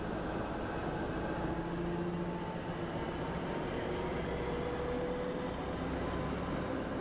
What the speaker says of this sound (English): I will let this run so that you can see all of the carriages on the number 372 train.